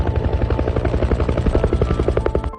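Helicopter rotor beating steadily and loudly close by after landing in a dense jungle in Chittagong, a rapid rhythmic thudding over engine whine that cuts off abruptly near the end.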